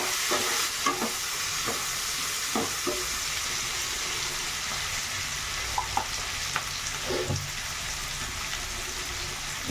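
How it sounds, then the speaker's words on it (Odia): Egg and potatoes fry in a pan with a continuous loud sizzle, and a spatula stirs them now and then, making occasional scraping clinks. "ଏବେ ତା ସାଙ୍ଗରେ ଯେଉଁ ଆଳୁ କିଛି ଥିଲା ସେ ଆଳୁକୁ ଭାଜିଦେବା ତା ଦେହରେ।"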